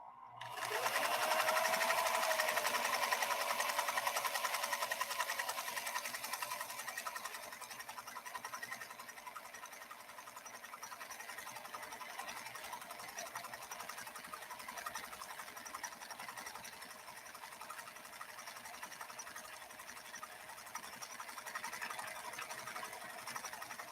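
A PFAFF 332 sewing machine runs steadily in a workshop, its fast, even mechanical whir continuous and close for the whole stretch, with no talking over it.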